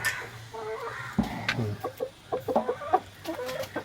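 Hens cluck in a backyard chicken coop of native country chickens during egg collection, with repeated short clucks and squawks at close range over low background noise; no talk.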